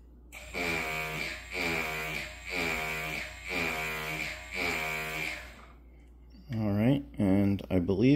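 Harley-Davidson ABS brake module actuating: a series of five strong, pulsing electric buzzes close by, each about a second long, followed by someone speaking.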